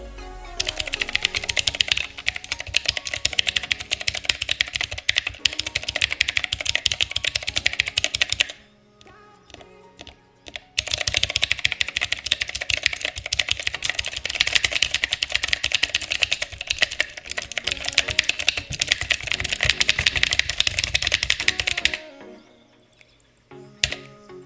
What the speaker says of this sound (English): They used real mechanical Otemu Blue switches on this keyboard, which gives it that clickety clackety sound.